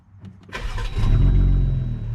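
A brand-new Jeep Gladiator with a straight-piped exhaust, cut with a Sawzall, cranks briefly and then fires into a loud, raspy roar that settles into a rumbling, close idle.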